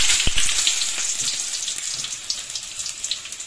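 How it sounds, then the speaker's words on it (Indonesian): Sliced Bombay onions stir-frying in a pan for a corn and water spinach sauté, giving a steady broadband sizzle with crackly spitting throughout, fairly close and continuous, with no talk. "Nah, ini bawang bombay ditumis sampai layu."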